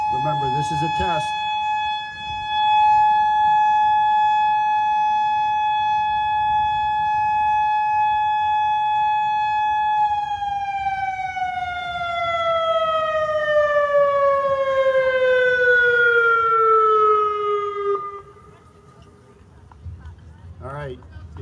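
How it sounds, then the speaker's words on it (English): Atlantic City warning system siren test tone, a long loud steady wail across the city that holds for about ten seconds and then slowly falls in pitch before cutting off, with voices briefly heard at the start and end. "This is a test of the Atlantic City warning system. The next tone will be very loud."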